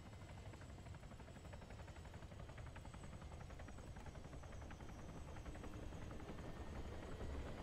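A helicopter's rotor thrums steadily at a distance in the video game Arma 3, a low rhythmic chop that grows slightly louder toward the end, with no talking.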